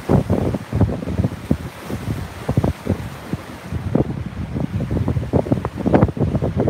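Strong gusting wind buffets the microphone beside rough, choppy water on a shore during striper fishing, loud, irregular bursts over a constant roar of surf, with no one speaking.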